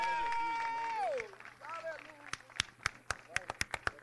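Clapping at a live gospel performance follows a long held vocal note; sharp, close hand claps ring out individually at first and then come in a quicker, rhythmic run.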